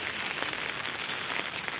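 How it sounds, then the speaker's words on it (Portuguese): Unexpected rain falling in the sertão countryside, a steady soft patter and hiss of drops on surfaces, faint and even with occasional slightly sharper taps. "Chuva que ninguém esperava, né?"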